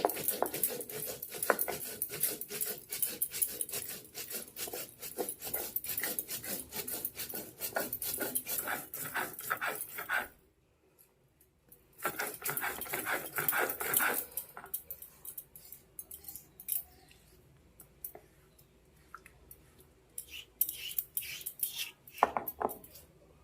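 Cumin seeds are ground by hand on a traditional sil stone, making repeated gritty scraping and rasping strokes in close rhythm, with a short pause partway through before the rough grinding resumes more sparsely.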